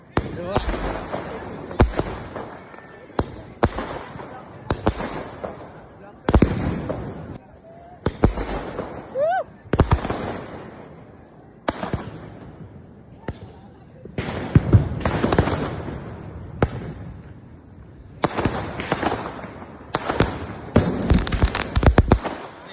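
Firecrackers set off outdoors in Borivali during Diwali celebrations, a long irregular series of sharp loud bangs and pops, some close together, with people talking in the background.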